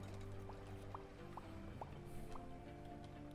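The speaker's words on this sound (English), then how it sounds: "I hear all the bubbles." Soft watery drips and small bubbling blips from an aquarium in the Megaquarium fish tycoon video game, a few scattered pops over a steady low background hum.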